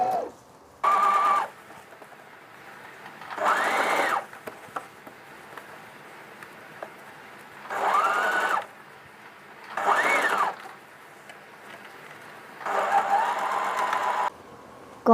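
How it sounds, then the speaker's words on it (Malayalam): Sewing machine stitching the second line of a bridal potli bag, the channel for the drawstring cord; about five loud whirring bursts, each a second or so long, separated by quiet pauses and faint handling clicks. "കോഡ് പാസ് ചെയ്യേണ്ട സെക്കൻഡ് ലൈന് സ്റ്റിച്ച് ചെയ്യുകയാണ്."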